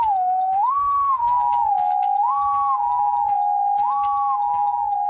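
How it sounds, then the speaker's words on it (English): A whalebone whistle sounds a steady, loud, wavering tone that rises and falls in repeated swoops, held continuously with no break, over a faint low rumble. "I think it was Rowan's whalebone whistle"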